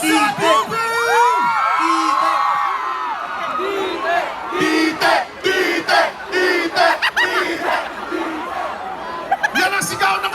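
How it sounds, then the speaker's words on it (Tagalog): A crowd of young people at a live concert performance shouts, whoops and cheers loudly and continuously, with many overlapping excited voices, scattered laughter and rising yells filling the whole stretch close by. "Yan ang sigaw ng kabataan!"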